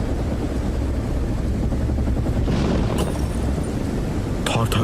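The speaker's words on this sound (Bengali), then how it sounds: "প্রথমে শো শো শব্দে প্রচণ্ড বাতাস বইতে লাগলো, আর তারপর তা মারাত্মক ঝড়ের রূপ নিল" Howling storm wind created as a 3D sound effect for a horror audio drama, a loud, continuous roaring rush that swells and gusts throughout, with sharp crackling bursts near the end.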